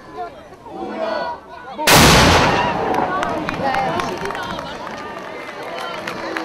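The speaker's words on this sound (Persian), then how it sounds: "برای آگاه کردن اهالی پایتخت ایتالیا از رسیدن نیمروز توپ شلیک میشه" A single loud noon cannon blast booms out in Rome after a moment of crowd murmur, followed by a lingering rumble and the noise of a bustling crowd.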